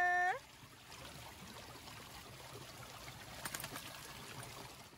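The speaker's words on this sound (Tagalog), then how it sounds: "Somebody likes the shower." Water from a shower runs in a steady, soft hiss and patter, with a brief electronic tone at the very start and a few clicks midway.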